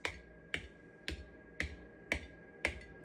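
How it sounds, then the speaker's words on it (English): Six crisp metallic taps on the lids of sealed home-canned jars of chicken noodle soup, evenly spaced about half a second apart, each with a brief ringing tone, faint and close. "we like to start off by tapping on the jars"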